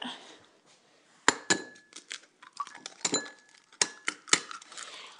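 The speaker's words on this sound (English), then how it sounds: "I'm going to crack the rest of those eggs in and beat that in with the cream and the milk" Eggs being cracked into a bowl, with a series of sharp clinks and taps of shell against the rim and a few soft wet drops in between, close and isolated.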